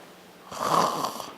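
A voice imitates a snore: one drawn-out, raspy, nasal rumble that swells and fades over about a second.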